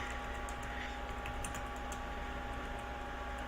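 Computer keyboard typing while entering network switch configuration commands, soft quick key clicks faintly heard over a constant hum of room and fan noise, no talking.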